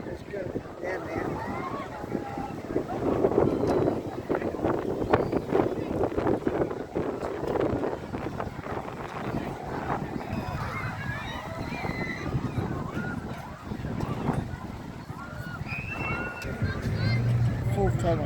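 Gusting wind buffets the microphone in a park in Christchurch, New Zealand, a steady rumbling roar that persists throughout, with people talking over it.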